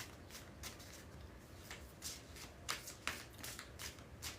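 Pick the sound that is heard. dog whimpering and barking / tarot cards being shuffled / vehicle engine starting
tarot cards being shuffled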